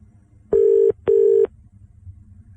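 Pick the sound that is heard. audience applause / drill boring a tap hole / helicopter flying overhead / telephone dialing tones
telephone dialing tones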